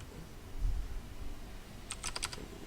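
Keys clatter on a computer keyboard as a channel name is typed, a quick burst of several close, crisp clicks arriving near the end after a quiet stretch with faint background hum.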